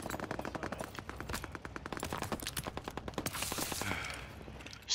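Rapid bursts of automatic gunfire in the World War II shooter Call of Duty WWII, Battle of the Bulge, dense and continuous for several seconds, with no talking.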